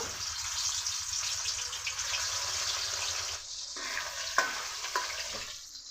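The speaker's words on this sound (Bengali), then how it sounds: "তেল ভালো করে গরম হয়ে গেছে, এখন মাছ ভেজে নিব।" Rohu fish pieces fry in hot oil with a constant, close crackling hiss, broken near the end by a few brief pops and a slight dip in intensity.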